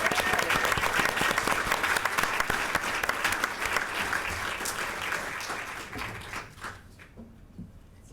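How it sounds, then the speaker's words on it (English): A room full of people gives sustained applause for an honoree at a Monrovia Unified School District board meeting. The clapping is steady and full, then tapers off near the end. "So let's give her a round of applause"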